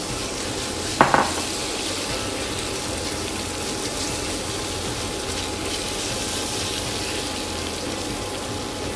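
Pork frying in oil in a pot gives a steady, loud sizzling hiss throughout, with a brief clatter near the start and no voices.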